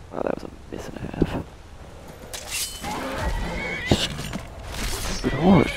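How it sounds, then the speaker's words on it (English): A horse neighs loudly several times in the video game Skyrim, with hoofbeats and scattered game effects and a voice talking over parts of it. "Stupid horse! Stop getting in the middle of this stuff."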